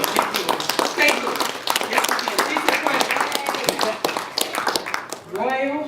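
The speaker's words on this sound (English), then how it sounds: "give yourself a round of applause for being here" A concert audience applauds and claps steadily at a D.C. statehood rap event, the dense crackle running almost the whole time with voices mixed in, before a voice takes over near the end.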